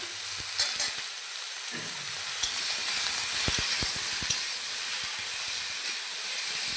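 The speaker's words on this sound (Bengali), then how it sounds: "ছিম আর আলুগুলোকে একটু ভালো করে ভেজে নেব" Green beans and potatoes frying in a pan for a chorchori, giving a steady close sizzling hiss with a few clinks of a utensil against the pan throughout.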